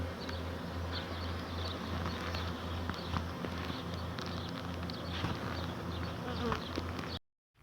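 Swarm of honeybees crowding back into a small garden hive, a dense steady buzzing hum close by that holds unbroken for about seven seconds before cutting off.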